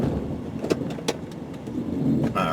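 A 2000 Ford Explorer XLT 4x4 in four-wheel low drones steadily as it climbs a hill, a low engine hum broken by a few sharp clunks and knocks.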